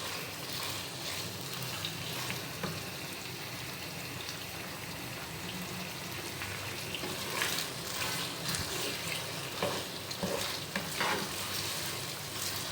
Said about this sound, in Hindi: चिकन को आपको इतना ज़्यादा इसके अंदर फ्राई करना है प्याज के साथ में